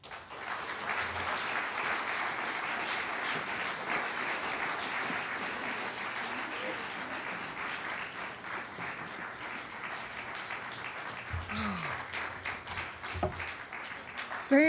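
Audience applause greets poet Patricia Smith at a literary reading, a steady, full crowd clapping that holds for about eleven seconds before thinning out, with a few murmurs near the end.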